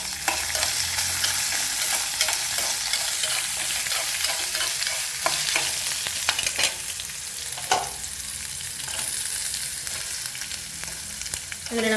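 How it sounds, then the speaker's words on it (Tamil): Garlic sautés in a pan with a constant, dense sizzle and crackle that holds steady, with a few faint scraping stirs and no talking. "பூண்டு சேர்த்துக்கிட்டு கொஞ்சம் வதக்கணும்."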